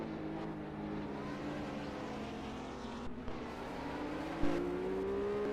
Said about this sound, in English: So we have cars struggling to get up the hill